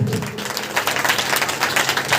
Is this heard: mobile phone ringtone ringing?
no